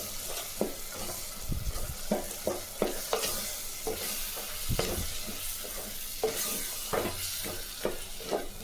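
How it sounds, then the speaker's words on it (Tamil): Tomato puree sizzles gently in a pan while a spoon stirs and scrapes against the metal in irregular strokes, close by and without talking. "தக்காளி ஊற்றின பிற்பாடு அரைச்சி அப்படியே வதக்கலாம்."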